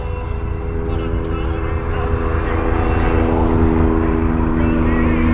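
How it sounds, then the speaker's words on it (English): A steady, loud rotor-engine drone hums throughout, low and continuous, as a helicopter passes overhead in Louisville without fading. "here's a helicopter again."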